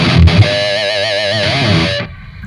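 Electric guitar run through a LEKATO Tank G multi-effects processor with gain turned all the way up, a loud sustained distorted chord wobbling with modulation for about two seconds, then cut off abruptly, no talking.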